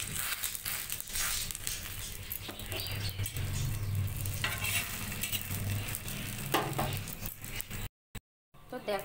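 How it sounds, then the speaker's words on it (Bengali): A snack for evening tiffin fries in hot oil, giving a close, crackling sizzle with bursts of spatter and scraping stirs, briefly cut by a moment of silence near the end. "আমি আরো একটা ভেজে নিচ্ছি"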